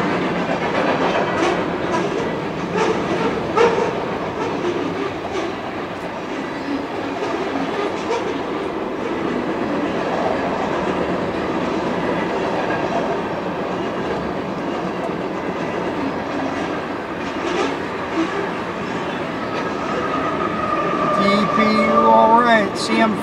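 A freight train with old boxcars rolls steadily past nearby, its loud continuous rumble and rhythmic clickety-clack running under intermittent talk.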